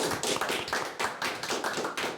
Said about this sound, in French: Applaudissements dans les bureaux.